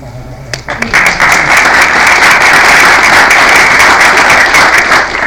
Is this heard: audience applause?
yes